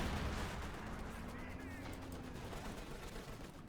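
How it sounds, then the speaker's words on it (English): A field gun fires in a Company of Heroes 2 battle, its boom blending into a thick wash of battlefield gunfire and rumble, with a commentator talking over it. "Field gun shoots, misses the Sturm Panzer."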